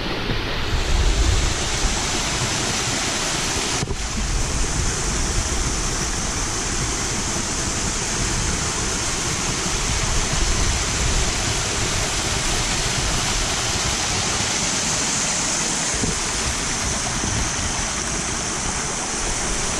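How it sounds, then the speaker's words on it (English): A steady, rushing roar of a waterfall pours continuously into a small creek pool at Finney Creek, Washington, even and fairly close, with no talking. "you come to this little pool with this waterfall"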